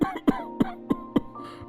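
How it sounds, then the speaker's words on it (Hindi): A man coughs in a rapid series of five sharp, close coughs at an evening family meal in cold weather, each a harsh burst followed by brief throaty rasps. "ये खांसी बढ़ती जा रही है"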